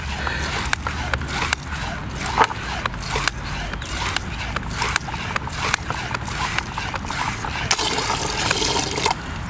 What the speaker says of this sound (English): That sound you can hear is of it automatically backwashing.